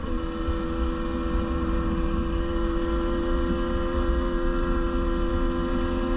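A KTM 150 TPI two-stroke motorcycle engine idles while warming up, a steady, loud, continuous drone with constant tone and no revs, close by throughout.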